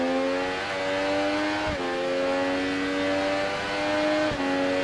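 Naked motorbike engine racing in the video game RIDE 3, a steady high-pitched drone held at speed with two brief dips where the pitch steps down as gears shift, loud and continuous with no talking.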